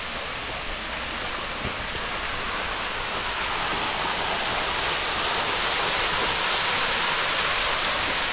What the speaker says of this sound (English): So this little waterfall is one of my favorite spots on the hike up.